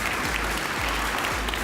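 Audience applause at an award presentation honoring awardees with 50 years of service; steady, even clapping from a crowd continues throughout with no talk over it, and low thumps recur about every half second.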